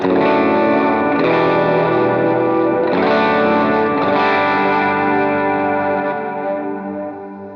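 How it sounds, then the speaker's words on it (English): Sustained electric guitar chords with a shimmering, warbling chorus modulation and trailing delay, loud and steady, with no voices. "it kind of has like a chorus effect to me in my ear."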